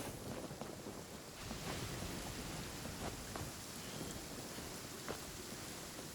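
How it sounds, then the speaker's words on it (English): A thunderstorm in Genshin Impact: a continuous hiss of rain and wind with a few faint, soft thumps scattered through it, fairly quiet and with no talking. "You hear that storm? Got lightning striking."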